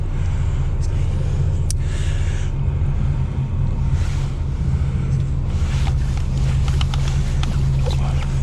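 Steady low engine rumble of a boat's twin port and starboard motors idling in a marina, continuous throughout, with faint wind and water noise above it.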